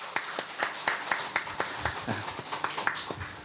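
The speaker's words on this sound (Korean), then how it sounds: "이번에는 우리 옆 사람들에게 위로의 박수를, 참으로 수고 많으셨습니다 하면서 위로의 박수를 드리겠습니다" Church congregation at a Sunday morning service clapping in a brisk rhythmic beat, sharp distinct claps at a moderate distance, fairly quiet and regular.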